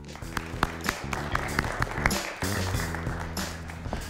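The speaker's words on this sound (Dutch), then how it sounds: "Geef hem een groot applaus" Audience applause at the Dutch Innovation Days conference as a speaker on organ-on-chip technology is welcomed; fairly soft scattered clapping with music playing underneath, steady throughout.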